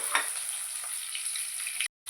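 Chopped ginger and garlic sizzling in hot oil in a pan for pickle, a continuous bright crackle with light stirring, close and steady before stopping abruptly.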